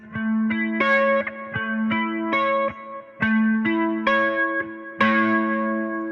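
A distorted electric guitar picks a three-note major triad, root, fifth and third, one note after another in a repeating arpeggio pattern, with effects coloring the tone and no voices.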